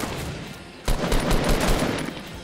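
Sharp sniper shots ring out in Fortnite, a sudden loud crack followed by a quick run of further shots over steady game background noise.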